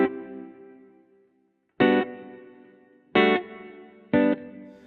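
Electric guitar run through an Empress Echosystem pedal with blended reverb and delay: three sharp strummed chords after a decaying opening one, each ringing out and trailing off into a smooth, echoing tail.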